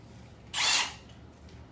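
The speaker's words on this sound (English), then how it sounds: "So I'm going to remove and go back to my regular drill." A power drill whirs in one short, loud burst lasting about half a second while drilling into tile, then stops, leaving near silence.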